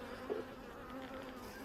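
Honey bees buzz steadily around an open beehive in an apiary, a continuous close, dense hum that carries on without pause and without any voices.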